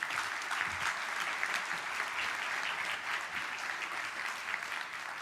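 A conference audience applauds after the opening remarks at an EU research and innovation event, with a dense, even wash of clapping from a large crowd that lasts throughout.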